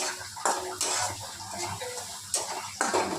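Coconut paste is stirred and fried in oil in a wok, with a steady hiss broken by several sharp scraping and clattering bursts of the spatula against the pan.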